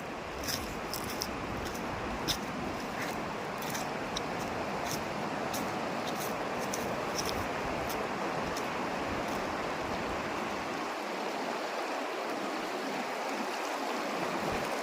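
Clear river water flows steadily in a forest setting, a continuous broadband rush of stream noise close by, with no talking.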